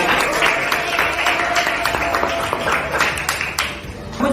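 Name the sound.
applause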